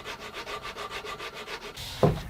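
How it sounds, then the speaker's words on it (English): Mahogany guitar body being sanded by hand with a large dowel used as a sanding block, steady rhythmic back-and-forth rubbing strokes, close and soft, ending with a brief thump. "A large dowel makes a great sanding block and helps you really get into the curved contours of the access carves."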